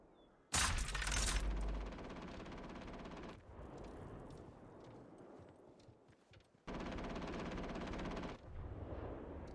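Automatic gunfire in Atomfall, The Red Strain DLC: a loud, fast burst of rounds up close, then a long stretch of dense continuous firing that briefly drops away and resumes with another heavy rattling burst.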